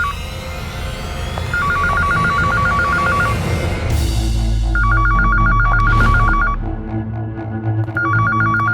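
A telephone rings in repeated electronic trilling bursts, three distinct rings separated by pauses, loud and close over a dramatic music bed with a swelling low rumble.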